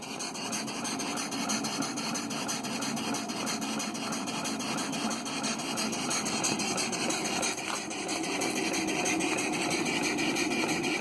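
A small Hasbrouck #1 model steam engine runs in reverse under steam, giving a fast, even mechanical chuffing and whirring rhythm close by, steady and unbroken, with no voices.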